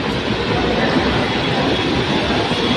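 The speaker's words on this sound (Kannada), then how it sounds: "ಹರಿಯೋ ನೀರನ್ನ ಸೀಳಿಕೊಂಡು ಬಂದ ವಂದೇ ಭಾರತ್." A Vande Bharat express train pushes through flooded tracks during heavy Mumbai monsoon rain, a loud, close, continuous roar of rumbling wheels and churning water with no break.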